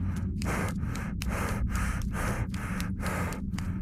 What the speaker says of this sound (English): You just keep running and breathing